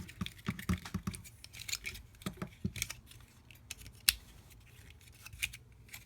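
Plastic parts of a Transformers Combiner Wars Voyager Scattershot toy snap and click as they are folded, a close, irregular series of sharp clicks and rattles with brief pauses, no talking.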